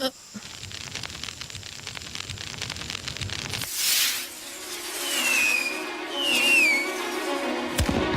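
Firework rockets whistle upward with rising shrieks and burst in a few loud swelling whooshes and crackles, heard close and fairly loud.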